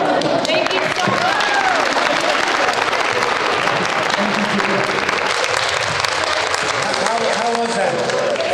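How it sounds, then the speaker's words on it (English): A room full of people claps loudly and continuously at a live event, with dense, sustained applause and a few voices mixed in. "let's give one more big round of applause"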